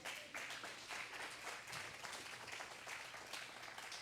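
A church congregation at a worship service claps together in a continuous wash of applause, steady and fairly distant, with no voices standing out.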